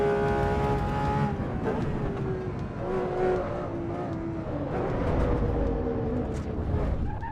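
A car engine in the racing game Assetto Corsa Evo drones and shifts pitch steadily, rising and falling through gear changes under a continuous mid-loud hum.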